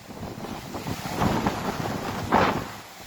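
Strong wind gusts roar steadily in the open outdoors ahead of expected rain, a broad rushing blow that swells in surges and buffets the microphone, with no voices.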